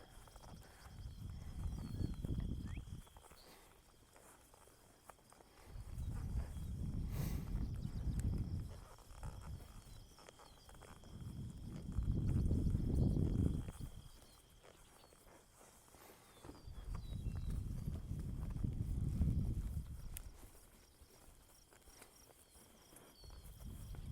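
A horse being walked under a rider during show preparation, hooves thudding softly in slow, regular waves of steps, with distant insects chirping and no talking.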